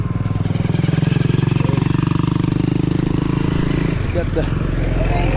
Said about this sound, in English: Got the tractors coming through.